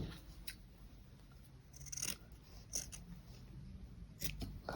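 Scissors snipping white felt, a few short crisp cuts spaced irregularly, close and quiet against a soft background hiss.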